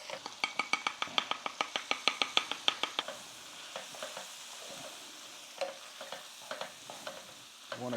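Meat and vegetables fry with flour in a pan while a utensil scrapes and stirs, a quick run of rhythmic clacks at first, then slower scattered strokes over a quiet sizzle.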